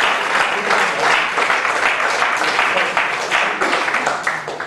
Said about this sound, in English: If you help me, let's clap.